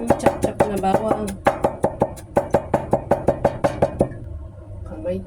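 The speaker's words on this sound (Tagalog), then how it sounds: "Lagyan pa pala natin ng chop-chop na bawang." Garlic is chopped with a knife on a board in a series of quick, sharp, regular strikes, close and loud, with a brief pause partway and a voice faintly present.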